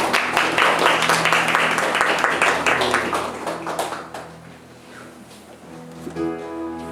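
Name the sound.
congregation applause of encouragement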